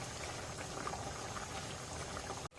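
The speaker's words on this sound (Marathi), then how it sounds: "आता 1 मिनिट उकळी काढूया." Jitada fish curry bubbles in a pot, a steady close simmering boil that cuts off abruptly at the end.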